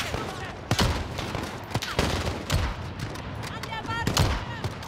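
Rapid gunfire in the video game Call of Duty Modern Warfare, loud repeated shots and bursts crackling over a busy battle din, with someone speaking excitedly over the shooting.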